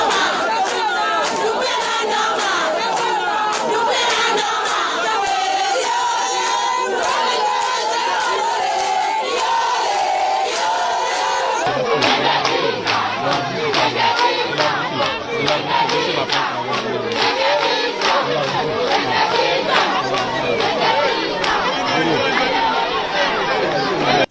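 A large outdoor crowd of islanders on the Îles de Los, Guinea, chatters, shouts and cheers continuously, loud and dense, with many voices overlapping throughout.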